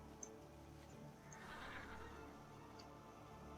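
A mounted horse in World of Warcraft neighs in a faint whinny that swells briefly in the middle, over low background game ambience.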